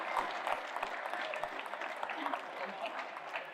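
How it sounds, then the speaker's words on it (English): Outdoor crowd at a junior championship Gaelic football final applauds the match officials, a moderate spread of clapping with a commentator talking over it throughout. "it's done well at the end for round of applause to the officials."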